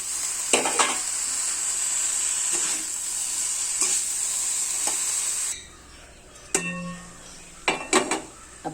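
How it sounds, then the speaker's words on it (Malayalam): Cooked cowpeas are tossed into a hot pan and stir-fried, giving a steady loud sizzle that drops away, followed by scraping and sharp clinks of a utensil against the pan. "നമ്മൾ വേവിച്ച് മാറ്റി വെച്ചിരുന്ന പയറിട്ട് കൊടുക്കാം."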